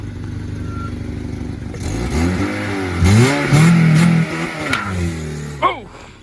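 Off-road Honda Civic revving hard during a neutral drop from reverse, the CV axle snapping under load; engine roars and rises in pitch over several seconds with voices talking and shouting, ending in a sharp clunk.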